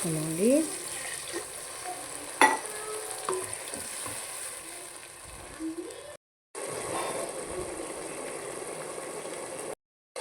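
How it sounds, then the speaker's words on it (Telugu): A curry of dried cucumber and tomato simmering in a pan after a glass of water is added, a steady close sizzle and bubbling with occasional stirring clinks, broken by a couple of brief silent gaps. "మనం ఒక గ్లాస్ వాటర్ పోసుకున్నాం మనకి మంచిగా ఉడుకుతుంది అన్నమాట"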